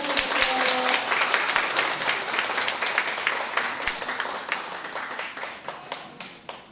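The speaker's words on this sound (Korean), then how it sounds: "박수" An audience applauds at an art exhibition opening in a gallery in Seoul, a full burst of clapping that slowly thins out until a few distinct claps remain.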